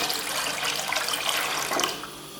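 About 1.5 litres of water poured into a pot for chicken corn soup: a steady, broad splashing rush over a couple of seconds that swells near the end, close and with no talking.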